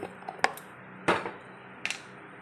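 Cookware knocks down onto a stove while zarda sweet rice is being made: a sharp metallic clank, then a louder set-down and a final lighter knock, close and clear over quiet kitchen room tone.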